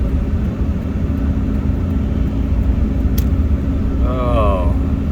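A 2003 Ford F-150 with the 5.4 V8 and 300,000 miles on it, rolling along the road with a steady low engine and road rumble from inside the cab, a voice talking over it near the end.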